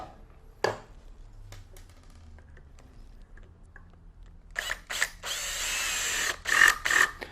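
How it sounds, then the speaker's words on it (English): Quiet handling clicks and taps, then a short burst of power drilling near the end, rough and close. "I'm going to drill my hole about there"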